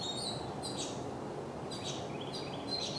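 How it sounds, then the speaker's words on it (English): A bird sings bright, high chirping phrases outdoors in short bursts over a soft, steady background hiss. "That bird is really singing a song there."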